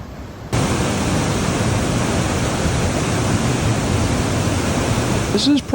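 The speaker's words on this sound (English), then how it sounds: "This is probably the most powerful waterfall I think I've ever seen" Powerful waterfall at Box Canyon Falls in Ouray, Colorado: a steady, loud, broadband roar of crashing water begins abruptly after a brief quiet moment and holds evenly throughout, with no talking.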